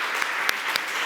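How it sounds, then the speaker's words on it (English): Audience applause at the World Gastronomy Summit 2025 in Catalonia, given to the catering team. It is a steady, dense burst of clapping from a large crowd, close and loud, with no talking over it. "A huge round of applause for the catering."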